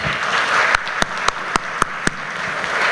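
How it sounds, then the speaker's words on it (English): At a paints and coatings industry anniversary event, six distinct, evenly spaced claps ring out over a steady hum of room noise and background chatter. "Let's have a big round of applause for them."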